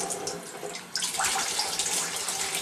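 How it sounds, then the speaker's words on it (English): Cold water gushes from a kitchen tap while natural hog casings are rinsed for homemade Italian sausage, a steady splashing hiss that grows fuller and louder partway through. "Turn on your cold water,"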